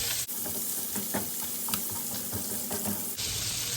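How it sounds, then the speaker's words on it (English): Salted butter sizzling in a hot pan, a soft steady crackle and hiss with occasional small pops, fairly quiet and close, with a clunk at the start and end. "Find a good hot spot, let that butter melt"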